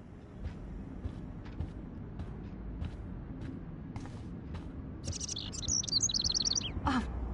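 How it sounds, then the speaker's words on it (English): A bird in the video game Life Is Strange chirps in a short burst of high, rapid tweets over a low background rumble with scattered clicks, followed by one brief lower squeak. "Can you help me get this bird out of here?"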